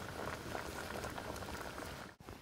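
A pot of wild boar offal stew bubbles and simmers continuously, with dense, close-up gurgling and popping for a couple of seconds.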